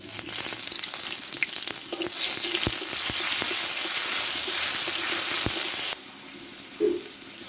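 Dry red chillies, a bay leaf, cardamom, cloves, cinnamon and cumin seeds fry in hot oil with a steady, bright sizzle and a few sharp pops, the hiss dropping to a quieter level near the end.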